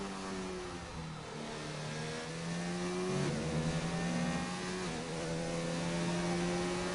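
A McLaren Renault race car in a racing video game, Austrian GP circuit, its engine holding a steady mid-pitched drone that dips and shifts through gear changes, continuous and close throughout.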